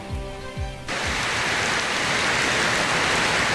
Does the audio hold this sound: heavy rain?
yes